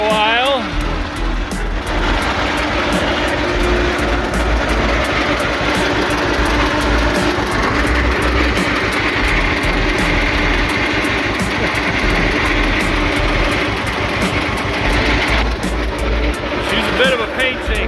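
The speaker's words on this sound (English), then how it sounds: "Fun old tractor." An old John Deere two-cylinder tractor that shakes heavily runs at a steady, loud, close idle with a rhythmic pulsing throb that continues throughout, while someone talks over it.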